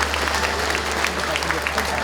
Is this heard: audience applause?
yes